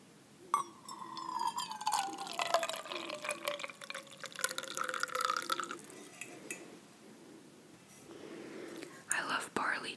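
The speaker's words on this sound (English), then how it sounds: "I'm just going to pour a little of that into" Green barley tea is poured into a stainless steel cup, a trickling liquid stream with drips and a rising filling tone, under soft whispered speech in a quiet close setting.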